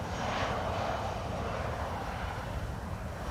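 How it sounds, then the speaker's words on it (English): A landing airliner with bucket thrust reversers roars as a broad, steady engine rumble at Schiphol on runway 18R Polderbaan, moderately distant and continuous, with no talk over it. "I love those reversers, those bucket reversers,"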